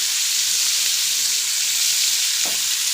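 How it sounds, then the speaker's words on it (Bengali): Chopped onion frying in hot oil with nigella seeds and dried chilli: a loud, steady, close sizzling hiss that stays continuous throughout, with one faint scrape of a spoon near the end. "পেঁয়াজটা দিয়ে একটু ভাজা ভাজা করে নিই"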